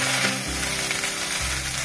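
Cooked rice tipped into cumin seeds frying in a pan gives a loud, steady sizzle and hiss up close, with a faint stirring scrape and no voices.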